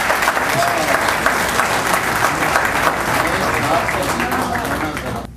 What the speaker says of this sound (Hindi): मैं आपकी ढेर सारी तालियों में दावत कलाम दे रहा हूँ हुमैरा रहमान साहब।